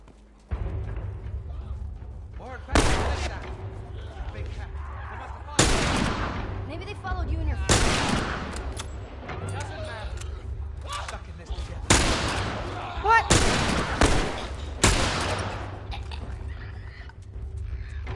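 Fully upgraded rifle firing in The Last of Us remake: loud, sharp gunshots recur every few seconds, each followed by a booming tail. A steady low background hum runs beneath them.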